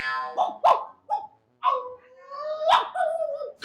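A dog barking sound effect plays a quick run of sharp, close barks and yips, some stretching into a whine.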